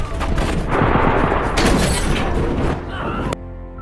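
Turkish troops fire on ISIS fighters who survived an explosion. A dense, loud burst of gunfire and booming blasts continues for several seconds, then cuts off abruptly.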